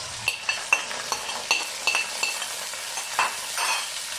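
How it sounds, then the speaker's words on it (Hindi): Mutton sizzles in a pan with onions fried golden, with soft frying hiss under intermittent clinks and scrapes of a spoon stirring against the metal. "1 से 2 मिनट मटन को फ्राई करेंगे।"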